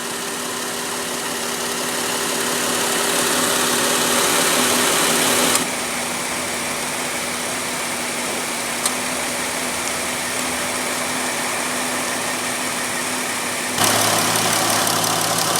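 The 3.6 liter V6 of a 2016 Chrysler Town & Country idles with a steady, even hum that holds constant throughout, with a slight shift in tone partway through and no talking.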